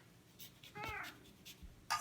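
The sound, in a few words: domestic cat meowing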